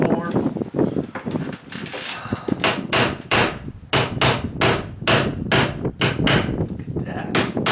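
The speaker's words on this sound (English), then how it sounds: "I haven't tapped this in with a hammer yet." Hammer tapping an exterior wall sconce light fixture into a tight cut in plywood: a steady run of sharp, close knocks, speeding into a regular rhythm in the second half, with some voice and handling noise early on.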